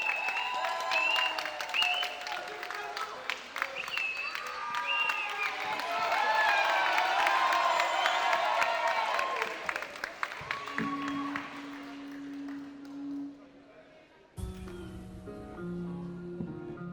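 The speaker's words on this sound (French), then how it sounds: "Je vous demande de l'accueillir sur vos applaudissements" A school talent show audience applauds and cheers as a singer is welcomed, a long swell of clapping with shouts that fades out before a tone and music begin.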